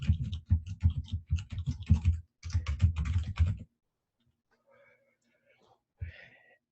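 Rapid keystrokes on a computer keyboard, a steady clatter for over three seconds, then a few faint taps and a brief soft noise near the end.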